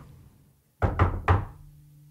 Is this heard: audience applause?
no